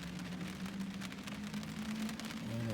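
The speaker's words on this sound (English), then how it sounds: "It is raining." Steady rain falls outdoors early in the morning, a continuous broadband hiss of drops on surfaces with a low hum underneath, fairly close and unbroken throughout, with no voices.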